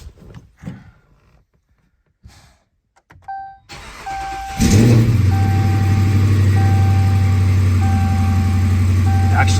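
A replaced engine in a Dodge Charger R/T cranks and fires up, settling into a steady, loud idle, while a faint recurring chime sounds; quiet shuffling and brief talk come before the start.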